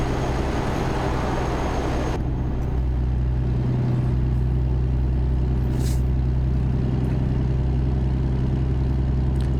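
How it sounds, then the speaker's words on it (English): Truck exhaust in a trucking driving game, heard from an outside camera beside the exhausts: a constant deep droning rumble. Its brighter upper hiss drops away after two seconds, leaving the low engine drone steady and loud. "it's a bit noisy because the exhausts are right there"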